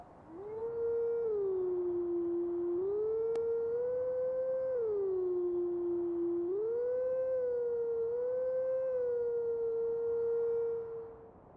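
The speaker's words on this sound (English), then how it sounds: "we need to listen to one last howling statue" A howling statue song from Zelda: Twilight Princess HD plays as a sustained wolf-like howl melody, smooth and loud, gliding between a few held pitches over about ten seconds with no voices.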